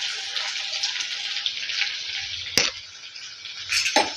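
Chopped onions hit hot oil in a pan, giving a soft, steady sizzle with a couple of sharp clicks and scrapes, fairly quiet and without talk.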